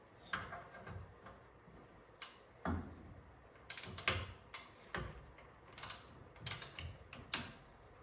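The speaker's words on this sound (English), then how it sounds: "the last thing we got to do is torque down the caliper" A torque wrench clicks and ratchets while tightening Wilwood D52 brake caliper bolts to 35 foot-pounds on a 1975-79 Nova, with sharp close ticks coming in quick uneven clusters in a quiet garage.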